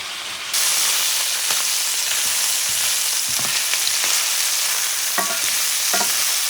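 Beef and onions fry over medium-high heat in a pan, a loud, dense sizzle that starts abruptly and holds steady, with occasional stirring scrapes.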